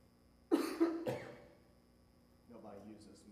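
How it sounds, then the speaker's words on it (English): A loud, close cough of two sharp bursts into a microphone during a church Bible study, followed by a short murmur of speech. "I just coughed all over"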